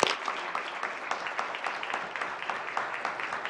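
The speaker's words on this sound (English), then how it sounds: "I ask all members of the House of Assembly to applaud this wonderful woman" Members of the Newfoundland and Labrador House of Assembly applauding in the chamber, a sustained round of many hands clapping with distinct individual claps, moderately loud and unbroken throughout.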